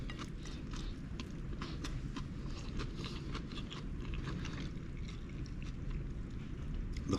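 Close-up chewing and crunching of smoked Florida pompano with creamy jalapeno-serrano coleslaw and rice, a steady busy mouth noise running throughout with no talking.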